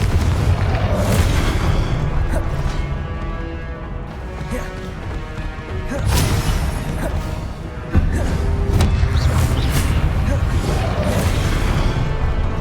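Repeated Confringo blasting spell explosions in Hogwarts Legacy crash and boom loudly one after another over a dense, continuous roar of combat noise.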